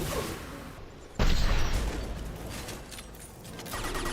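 A sniper rifle fires in a sci-fi shooter video game featuring Geth and husk enemies. One loud, booming shot lands just past the first second amid busy game ambience and scattered distant gunfire, with no talking.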